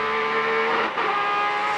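A Porsche race car engine screams near 9,000 rpm during a sports car race, a loud sustained whine that dips briefly as it passes close by.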